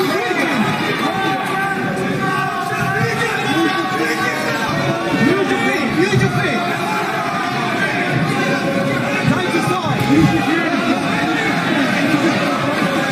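A boxing arena crowd roars and murmurs steadily behind a British heavyweight home favourite in a title fight, a dense, continuous hubbub with rising shouts, mixed with close commentary talk over it.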